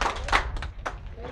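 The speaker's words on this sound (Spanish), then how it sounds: "Mil felicidades a mis hijas. Un aplauso." A few handclaps ring out for two sisters turning sixteen at a family birthday party in Tamaulipas. The claps are sparse and uneven, with nearby chatter mixed in.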